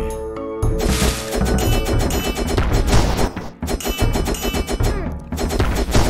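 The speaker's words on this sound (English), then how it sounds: "Throw these as they burn. They pop several times, damaging enemies" Thrown assault cannons in the video game Ocean's Heart burst with rapid, repeated loud pops and cracks, volley after volley over about six seconds with a brief lull in the middle.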